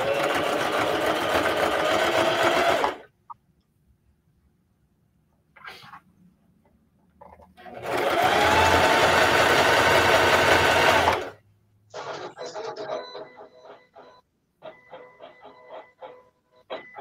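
A vinyl cutting machine runs in two loud, close bursts of a few seconds each, with quieter intermittent clicking and whirring of its carriage in between and after.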